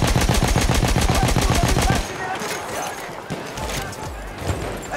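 Light machine gun fire in Battlefield 1, a rapid loud burst of evenly spaced shots for about two seconds, followed by scattered distant gunfire and battle noise.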